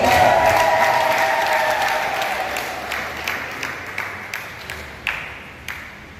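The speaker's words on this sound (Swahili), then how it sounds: "Piga makofi kwa Baba." Church congregation applauding, a dense burst of clapping that gradually thins into scattered, separate claps and taps at moderate distance.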